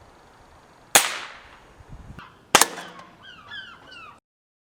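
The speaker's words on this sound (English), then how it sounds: "I'm going to take a few shots at some of those Sussex Armoury targets you saw earlier on." Two sharp, isolated air gun shots crack out about a second and a half apart at Sussex Armoury targets, each with a quick decaying tail, amid quiet surroundings and a few faint chirping sounds afterward.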